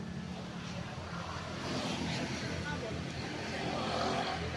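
Road traffic passes steadily beside a highway in Magdalena, Laguna, a broad rumbling wash of vehicles that swells slightly louder toward the end, with someone speaking over it.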